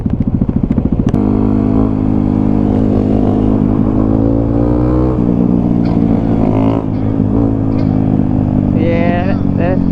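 Dirt bike engine revving close by, opening with rapid popping idle pulses, then a loud sustained roar with rising and falling pitch, voices talking over it.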